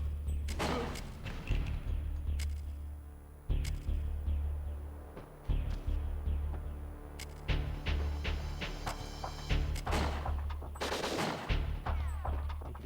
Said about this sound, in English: Popping out and shooting dudes.